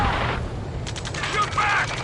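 Dense gunfire and mechanical battle noise in a combat scene from the video game Ace Combat 7, steady and loud throughout with shouted voices mixed in.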